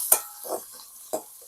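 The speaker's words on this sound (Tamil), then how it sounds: "இப்போ வந்து கொஞ்சம் பெருஞ்சீரகம் போட்டு நல்லா பொரியட்டும் வெங்காயம்" Onions with fennel seeds fry in hot oil in a village kitchen, giving a soft sizzle that is broken by three sharp stirring scrapes of a utensil against the pan, with no one speaking.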